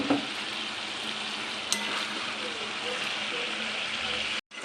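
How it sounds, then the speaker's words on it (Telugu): Onion chicken with ginger garlic paste fries in a pan with a loud, continuous sizzle and occasional stirring scrapes, holding steady before cutting out abruptly near the end. "ఇలా అల్లం వెల్లుల్లి పేస్ట్ వేసుకొని బాగా పచ్చివాసన పోయే వరకు, స్మెల్ పోయే వరకు ఫ్రై చేసుకోవాలండి"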